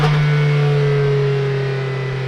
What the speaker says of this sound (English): let's take a listen to the outside because it actually sounds pretty ridiculous if you put your foot to the floor